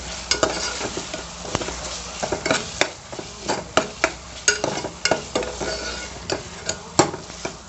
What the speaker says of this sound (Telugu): ఇలాగే వేసుకుని మొత్తం కలిసేలా కలుపుకుని ఒక 5 నిమిషాల పాటు వేగించుకోవాలండి